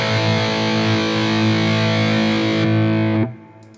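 A heavily distorted electric guitar chord from a Neural DSP Quad Cortex rings out thick and buzzing, sustaining loudly for about three seconds before cutting off abruptly.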